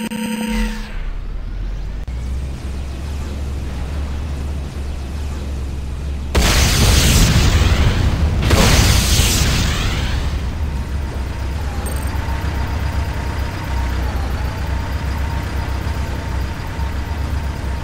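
C4 explosions in the multiplayer shooter Renegade, two loud close booms a couple of seconds apart rising out of a steady engine rumble, followed by a lingering low roar.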